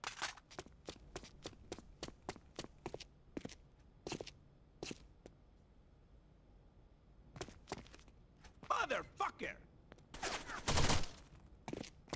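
Gunfire in the tactical shooter Rainbow Six Vegas 2: sharp single shots and short bursts ring out in a steady, spaced rhythm, close and crisp, followed by a louder flurry of shots near the end.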